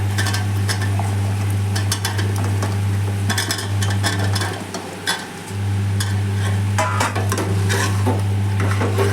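Soy chunks and potatoes stirred and roasted in masala in a pan for an aloo soyabean curry, loud continuous scraping and clattering of a spoon against the pan over a steady sizzle and a low hum.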